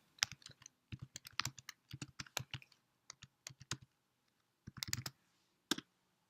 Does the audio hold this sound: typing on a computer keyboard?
yes